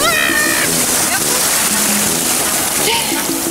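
A person swims and splashes among sea waves at a beach in Da Nang, Vietnam, with constant close sloshing and churning water while someone talks over it.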